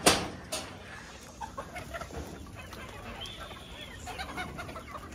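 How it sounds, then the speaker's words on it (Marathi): Desi gavran chickens in a poultry shed cluck in a busy, overlapping chorus that opens with a sharp knock. A faint steady hum runs underneath. "कोंबड्याच कोंबड्या"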